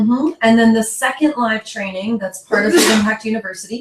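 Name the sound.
sneeze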